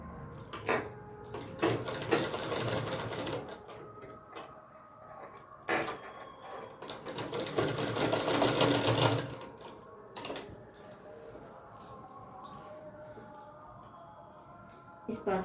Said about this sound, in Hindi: इस पार्ट को भी हल्का सा मोड़ते हुए सिलते जाएंगे